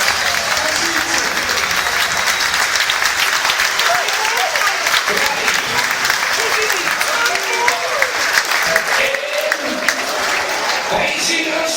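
Supporters fill a stadium at a play-off final with loud, continuous applause and crowd roar that holds steady throughout, while a voice talks over the din.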